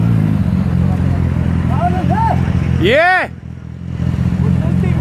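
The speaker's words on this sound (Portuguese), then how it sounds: "Deve ter umas 50 motos aqui nessa porra" Motorcycles gather at a street meetup of about fifty bikes in downtown Atlanta. A loud, steady engine rumble runs throughout, one engine revs up and drops back near the middle, and people talk over the noise.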